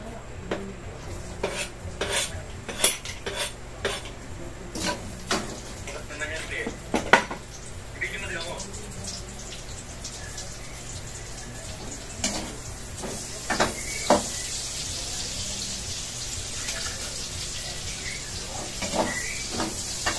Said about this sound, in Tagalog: ngayon ay magigisa na po tayo ng bawang at sibuyas